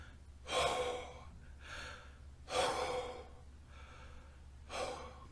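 Heavy breathing after a meditation session, three deep rasping gasps spaced about two seconds apart with softer exhales between, close to the microphone and otherwise quiet.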